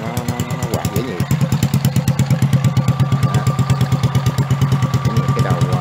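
A motorcycle engine converted to drive a farm tiller with a cooling fan runs close and loud, a steady rapid putter that picks up slightly after a second.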